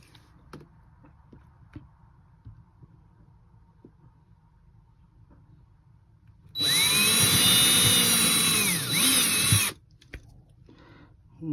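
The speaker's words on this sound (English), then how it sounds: "I can just set it up and do the pre-drill through the holes" A power drill bores pilot holes through an RV table pedestal base in one loud, close burst of about three seconds, its whine dipping briefly, with quiet handling noises before and after.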